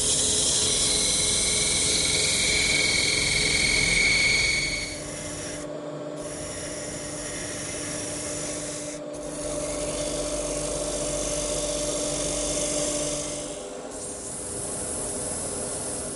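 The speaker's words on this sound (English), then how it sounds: "now I'm going to start with this feature right here with my parting tool." A parting tool cuts into wood spinning on a lathe in a woodworking shop, making a steady rasping scrape over the motor's hum with a few brief pauses, close and moderately loud.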